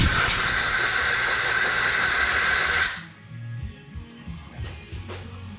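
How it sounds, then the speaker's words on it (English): Compressed air blasts loudly through small generator carburetor parts in a steady hiss for about three seconds, then cuts off abruptly, leaving quiet workshop handling noises. "Little compressed air. Blow it out."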